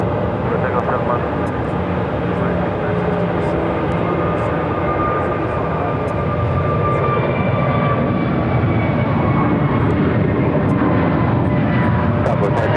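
An American airliner takes off from runway 7 left at Phoenix, a loud, close, continuous jet roar that holds steady and dense for the whole stretch.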